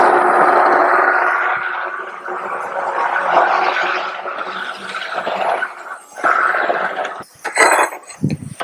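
A blender whirs through four peppers with a splash of water, a continuous buzzing churn that wavers in pitch, followed by a few clinks and scrapes at the end.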